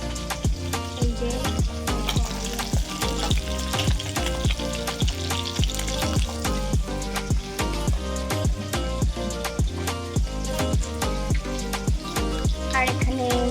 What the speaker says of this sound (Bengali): এখানে বাটা মাছ ভাজা হচ্ছে।